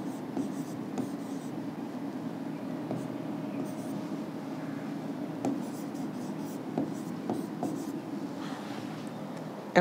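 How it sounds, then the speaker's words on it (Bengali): Pen or chalk writing out lecture notes on a Bengali biology lesson about respiration and the Krebs cycle, soft scratchy strokes under a low steady room hum with a few faint taps, no clear talk. "আচ্ছা আমি একটু লিখে রাখি এখানে"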